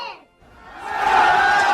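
A crowd of party supporters bursts into cheering as an exit poll for a presidential election is announced, a short swelling roar rising after a brief voice.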